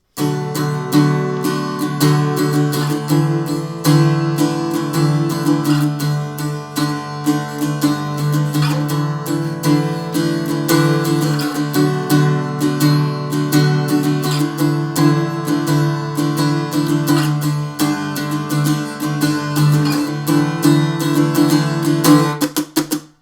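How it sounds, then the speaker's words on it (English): A guitar plays the verse of a song with continuous, driving strummed chords, loud and unaccompanied, the rhythm even and unbroken for the whole stretch. "Verse 1 should sound like this"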